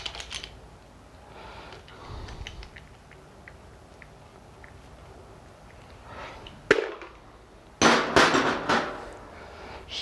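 A hammer knocks loose a stuck car thermostat housing during engine work: a sharp metallic knock, then a quick close cluster of louder blows after a quiet stretch with faint tapping.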